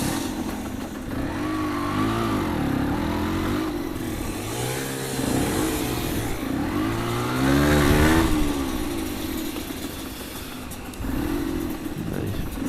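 A 125cc motorcycle rides off through the streets of Moëlan-sur-Mer, its mid-pitched engine rising and falling through several revs and gear changes, up close and fairly loud, with a voice talking over it at times.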